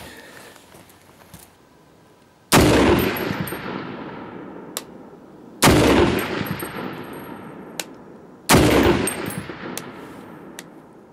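Three loud, sharp rifle shots from an Ensio Firearms KAR-21 multicalibre .223/.308 rifle, spaced a few seconds apart, each with a long echoing decay and a faint metallic ping after it.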